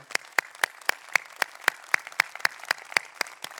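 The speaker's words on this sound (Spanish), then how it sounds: "Muchísimas gracias a todos, de verdad un aplauso enorme." Clapping at a RootedCON 2018 cybersecurity conference panel, heard as sharp, evenly spaced claps about four per second. The rhythm is steady and moderately loud, and there is no talking.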